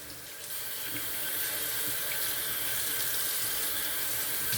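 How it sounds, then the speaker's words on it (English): A running tap pours water over a tub of shaving soap being rinsed, a steady close hiss and splash that continues alone from start to finish. "I'm gonna go ahead and rinse off the tub."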